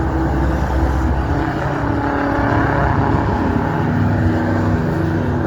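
Pre-war vintage race cars on a formation lap at Castle Donington circuit, a steady loud blend of several engines droning and revving together without a break, with no one speaking.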